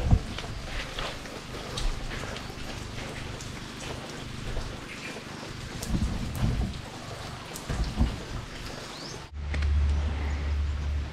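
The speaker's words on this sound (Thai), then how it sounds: "เช้านี้ฝนตกลงมาแล้วครับ" Morning rain falls on a raft house on the Khwae Yai River in Kanchanaburi, a dense steady patter of drops with scattered louder splashes and a low rumble toward the end.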